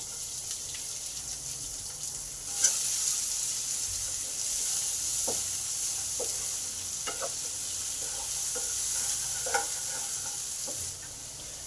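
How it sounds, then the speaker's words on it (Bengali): Chopped onions drop into oil already tempered with panch phoron and chilli, settling into a steady bright sizzle with soft stirring scrapes and a couple of sharper clinks, close and unvoiced. "পেঁয়াজটা যে কুচানো আছে পেঁয়াজটা দিয়ে দিলাম"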